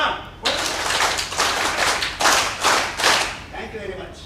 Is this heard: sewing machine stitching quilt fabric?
no